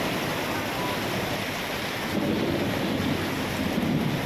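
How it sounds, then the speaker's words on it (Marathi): Heavy monsoon downpour with thunder in Gadchiroli town, a steady dense roar of rain and low rumbling that swells slightly louder midway and holds continuous without any voices. "विजांचा कडकडाट होतोय आणि मुसळधार पाऊस पडतोय"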